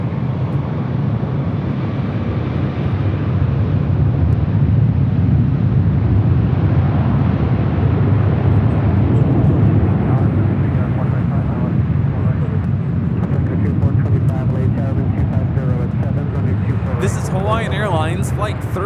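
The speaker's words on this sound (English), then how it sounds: "Airlines Flight 3 departing to Honolulu on the A330-200" An Airbus A330-200 airliner departs Los Angeles International Airport bound for Honolulu, a loud, steady broadband jet roar filling the whole stretch, with faint voices beneath it.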